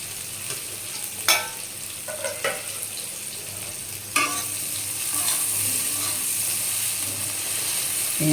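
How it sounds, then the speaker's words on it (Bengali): Chopped tomatoes and onions fry in a pan with a constant bright sizzle, broken by scraping, clacking stirring strokes that grow more vigorous partway through. "টমেটো কুচোগুলো দিয়ে দিলাম। একটু নাড়াচাড়া করে নিই,"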